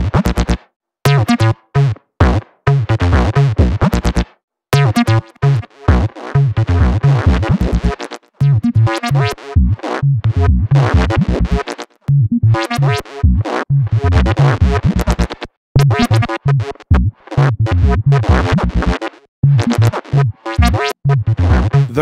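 Bass instrument played through the reverse effect of the Bassrift multi-effect plugin, with swelling, backwards-sounding notes that break off in choppy phrases and short silences, loud and alone.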